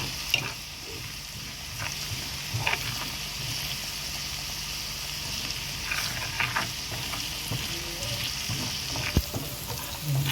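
Molokhia and okra being stirred together in a pot over heat make a continuous, even sizzle for about ten seconds, marked by scattered soft knocks and clicks of the spoon against the pot.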